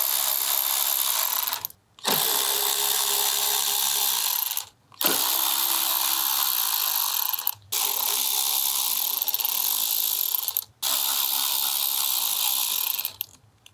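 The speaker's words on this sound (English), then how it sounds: "I got my trusty Milwaukee with an extension with a T20, and these are only torqued to like 7 Newton meters" A Milwaukee cordless power driver with an extension and T20 bit loosens fuel filter screws on a 2012-2015 VW Passat TDI, whirring loudly in long runs of about three seconds separated by short pauses.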